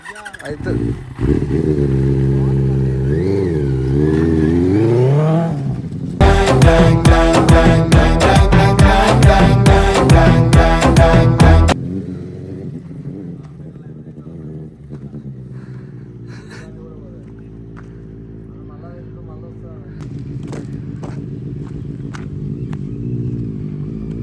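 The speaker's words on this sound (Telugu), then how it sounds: "సో గైస్ బండి సౌండ్ అయితే విన్నారు కదా" A super bike's engine starts and revs hard with loud, rapid bursts, then settles to a steady idle, with people talking over it at the start and end.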